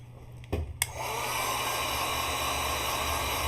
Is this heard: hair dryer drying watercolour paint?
yes